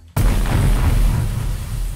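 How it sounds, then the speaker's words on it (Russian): A sudden loud explosion bursts in and rolls on as a deep, rumbling boom that slowly fades without fully dying away. "Подойдет звук взрыва, хит или бум."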